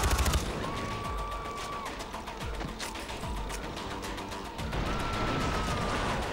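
Far Cry 4 combat, with rapid, sustained gunfire rattling continuously over heavy booms and mechanical clatter, loud and close throughout.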